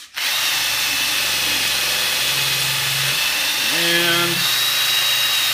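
A power tool with rouge compound polishing and sanding ball wear out of a metal part, giving a steady close whine that shifts pitch as pressure changes, with a brief word spoken over it.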